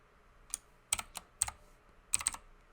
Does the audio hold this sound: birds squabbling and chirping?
no